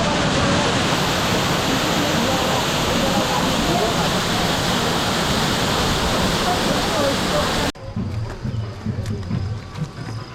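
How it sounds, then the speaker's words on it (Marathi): Small monsoon waterfalls rush and splash at a hill fort in heavy rain, a loud dense roar of falling water that suddenly drops to quieter trickling and faint background sounds near the end. "छोटे मोठे धबधबे पण आहेत."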